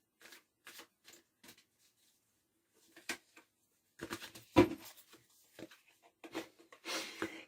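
Oracle cards being shuffled and drawn by hand, heard as short papery riffles and taps, sparse at first, then a denser flurry of shuffling close by, with no talking.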